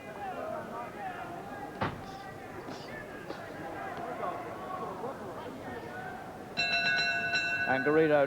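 A boxing round bell rings during a bout between Tony Sibson and Antonio Garrido, cutting through crowd noise with a sharp strike and then a bright, sustained ringing toward the end, while a commentator talks over it.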